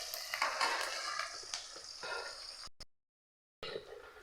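Onions frying in oil in a pan while being stirred, soft scraping and light sizzling close by, with a brief dropout of complete silence before the sizzle returns.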